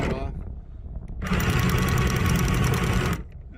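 Anchor windlass on an Aspen C120 power catamaran hauling in the anchor, a loud steady mechanical whirring and rattling for about two seconds, starting and stopping abruptly, with someone talking nearby before and after.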